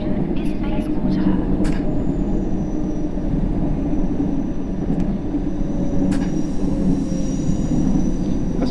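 A London Underground Circle line train runs in the World of Subways video game with a steady rumbling roar, faint wheel squeal and occasional clicks throughout, at an even, loud level.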